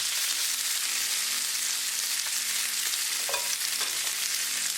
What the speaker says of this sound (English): I'm cooking in a skillet and I still can cook these salmon pieces nicely